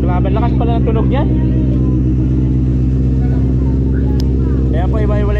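A Ford Mustang engine rumbles loudly and steadily close by, with a deep continuous drone. Several people talk over it.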